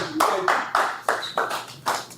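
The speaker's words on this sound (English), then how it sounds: "give him a round of applause on that" Several quick bursts of clapping at a community forum, like a short round of applause breaking out in uneven waves, fairly close and steady for a couple of seconds.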